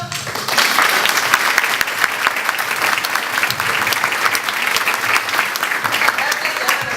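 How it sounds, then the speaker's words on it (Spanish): Loud, steady applause from a seminar audience thanking a panel on corporate social responsibility in Uruguay, many hands clapping continuously and evenly throughout. "les damos un aplauso"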